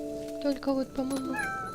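A cat in the game What Remains of Edith Finch gives a few short rising meows, close and clear, with a voice speaking around them.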